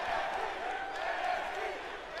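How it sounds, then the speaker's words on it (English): A virtual arena crowd in WWE 2K19 at an NXT event keeps up a faint, sustained roar of chanting and cheering, with no single voice standing out. "And this crowd chanting NXT."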